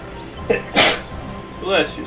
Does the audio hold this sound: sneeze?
yes